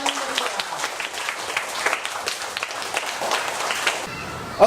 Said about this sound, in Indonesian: kita kasih dulu tepuk tangan yang paling meriah